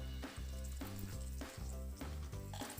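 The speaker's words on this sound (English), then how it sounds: "Fry them till they turn aromatic and slightly changes the color." Moong dal, chana dal, urad dal and basmati rice frying in oil for haleem, a steady close sizzle under pulsing background music, with no talking.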